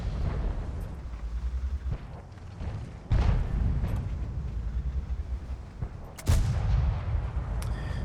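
Tank cannon fire in World of Tanks: two heavy booming shots land about three seconds apart, each a sharp loud blast followed by a rumbling tail over steady low engine drone.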